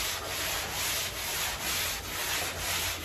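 Close, continuous abrasive scraping from hand block sanding of body filler, back-and-forth strokes in an even rhythm, no voices.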